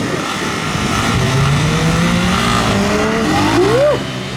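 A Honda CB300R motorcycle at a motogymkhana event accelerates hard out of a turn, a loud, close engine note climbing steadily in pitch with the throttle before dropping off sharply at the end.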